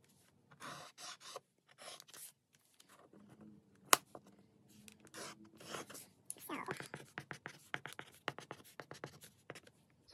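Pencil writing a fraction subtraction problem on paper, with close, scratchy strokes in short irregular bursts separated by pauses, then faster clustered marks toward the end and a sharp tap midway.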